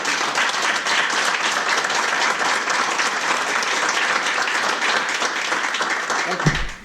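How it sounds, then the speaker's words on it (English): A school-district audience gives a sustained round of applause, dense and even clapping for nearly seven seconds, with faint voices mixed in and a small bump near the end. "please give another round of applause"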